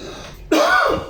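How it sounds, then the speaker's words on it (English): A single sharp, loud throat clearing with a raspy cough-like burst, close to the microphone and heard alone after a quiet moment. "This is the Reaper cough"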